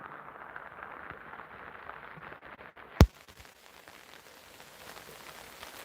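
Steady rain patters on the ground during a walk along a street path, a soft continuous hiss with scattered drops, broken once by a sharp nearby knock.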